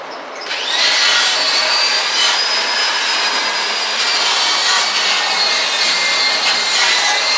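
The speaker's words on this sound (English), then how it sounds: "Lucky we got that big fan sucking that stuff right on out." Large shop fan pulling dust out of a garage during a 1955 Chevy gasser build, a loud steady broadband roar with a faint high whine, starting up in the first second and then holding constant.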